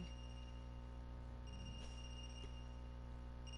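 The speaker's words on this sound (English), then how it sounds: "Is that a phone ringing?" Faint telephone ring in the video game AI: The Somnium Files, thin steady tones rising over a quiet low hum partway through, with no voices.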